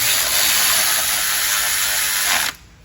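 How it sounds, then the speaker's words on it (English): A ratchet wrench tightens a bolt with a rapid, continuous metallic clicking that runs close and loud for about two and a half seconds, then stops abruptly. "tighten that back up, right? That way that bolt holds this thing up."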